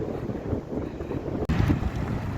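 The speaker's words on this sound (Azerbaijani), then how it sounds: "Külək güclənib, toz qalxıb." Strong wind gusting and blowing dust around outdoors in a town, a continuous loud rumbling buffet against the microphone with no voices.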